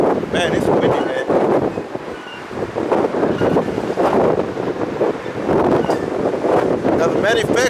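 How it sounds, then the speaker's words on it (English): Strong outdoor wind buffets the microphone in loud, uneven gusts throughout, with a voice speaking underneath the rumble. "it's windy"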